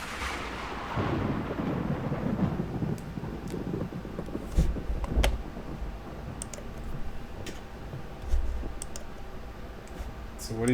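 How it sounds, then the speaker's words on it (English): Thunderstorm sound effect played during a Windows 98 setup on a computer, with low rolling rumbles and a couple of louder thunder cracks, heard alongside mouse and keyboard clicks. "let's see if we get some thunderstorm sounds"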